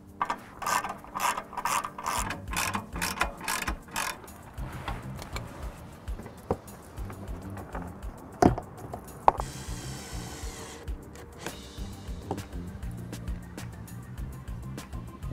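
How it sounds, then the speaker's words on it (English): Ratchet clicking in rapid bursts while loosening 10mm bolts under a car bumper, close and steady, with brief pauses, a couple of sharp knocks and a hissing stretch partway through. "there's some 10mm bolts under the bumper that we need to loosen off just so we can get enough play out of the plastic"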